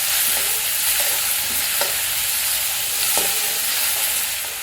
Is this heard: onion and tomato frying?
yes